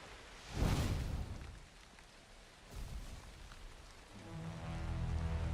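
Steady rain hiss in the game Valheim, a broad wash of falling rain with soft gusts and a low rumble swelling around one and three seconds, no talking.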